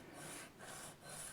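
Sanding flattened steel grub screws flush on a Gibson ES 335 guitar: three soft, faint back-and-forth rasping strokes, close and quiet.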